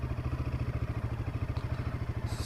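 Motorcycle engine running on a coastal road trip, a close, loud, steady rapid thumping beat with mechanical clatter throughout and a faint high hiss near the end.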